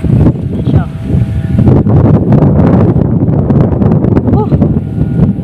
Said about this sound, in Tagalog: Lakas ng hangin pa rin kahit mababa na.